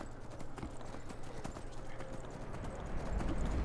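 Steady clip-clop hoofbeats from a ridden horse in the Skyrim video game plod along a road, close and continuous, with a soft ambient background.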